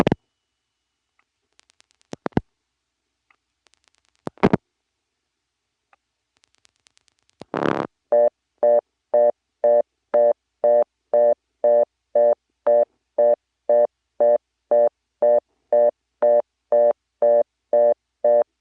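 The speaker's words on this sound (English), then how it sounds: "At the moment it's busied out. I don't know whether it always is, but here's dialing" Pulse dialing of 3660 on a 1977 step-by-step telephone exchange in Rock Hill, South Carolina: a few sparse dial clicks, then a long, steady train of evenly spaced busy-signal beeps, clear and alone.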